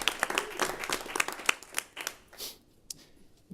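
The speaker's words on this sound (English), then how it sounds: "I want to just give all of our finalists a round of applause for making it this far." An audience claps for finalists at a NASA iTech event, a short burst of scattered hand claps that thins out and fades within a few seconds.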